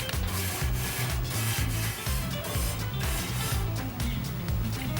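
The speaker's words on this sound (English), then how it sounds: "use your grill scraper to scrape off all of the grease" Metal grill scraper dragged back and forth across a grill set to low heat to clear off grease, a loud, close rasping scrape repeated in steady strokes.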